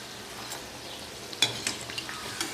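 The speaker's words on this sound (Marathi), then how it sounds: "आणि याच पद्धतीने आपण बाकीचे उरलेले वडेही छान तळून घेणार आहोत" Kat vada fritters deep-frying in hot oil: a soft, continuous sizzle near at hand, broken by a few sharp crackles and light stirring clinks, with no talking.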